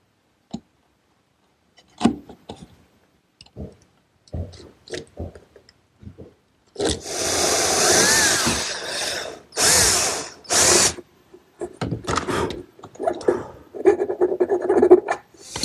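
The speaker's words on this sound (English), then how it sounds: "The rest of the work I'll do with the chisel." Chisel cutting a mortise in wood for a half mortise lock on a desk-top writing case, sharp mallet taps and scattered knocks followed by longer scraping and paring bursts, close and fairly loud.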